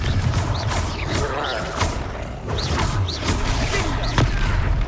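Confringo blasting spells explode in the Hogwarts Legacy wizard game, a run of sharp, bright bangs and crackling bursts arriving every second or so over a busy background of combat noise.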